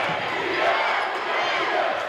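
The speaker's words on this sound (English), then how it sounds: "And now Centennial's crowd once again comes to life." A high school basketball crowd in a gym roars after a left-handed layup ties the game, a dense, loud, sustained wall of cheering and yelling that lasts the whole moment.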